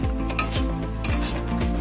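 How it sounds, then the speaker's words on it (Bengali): Fish coated with spices is stirred into tomato in a pan over a low flame, with a repeated scraping of the spatula against metal over a steady soft sizzle. "মেখে রাখা মাছটা অ্যাড করে দেওয়ার পরে আমি এটাকে লো ফ্লেমে নাড়িয়ে নেব"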